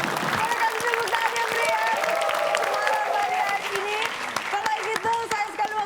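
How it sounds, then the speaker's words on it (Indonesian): A studio audience at a comedy show applauds heartily, a loud, sustained wash of clapping and crowd noise with someone talking over it throughout. "Boleh kasih tepuk tangan yang meriah."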